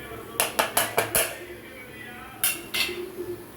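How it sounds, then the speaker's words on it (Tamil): Chicken gravy masala with chilli powder, curry masala and turmeric being sautéed in a pan: a quick run of five metallic spoon clinks against the pan, a pause, then a few more scrapes and clinks, close and moderately loud. "இதை போட்டு நல்லா வதக்கி விட்டுடலாம்."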